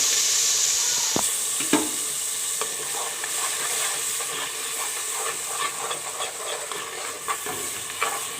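Ground masala, including garam masala, fries in a pan for a restaurant-style chicken and chickpea curry, giving a steady close sizzle with occasional sharp stirring clicks and scrapes and no talk.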